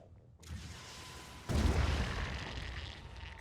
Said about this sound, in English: we'll get a grenade going on these two